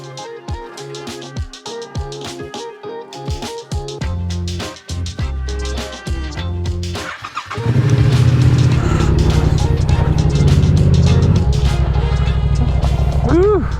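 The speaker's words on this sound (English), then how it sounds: "let's get on the bike, let's see what the intake is like" A Yamaha R7 motorcycle starts up, with clicks and short bursts before the engine catches, then settles into a loud, steady close idle with an intake rumble.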